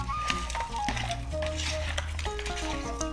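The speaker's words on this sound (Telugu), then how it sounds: "అన్నింటినీ బాగా కలుపుకుందాం" Mutton biryani ingredients stirred with fried-onion oil in a pot, a spoon scraping and clinking against metal over a low sizzle, close and continuous.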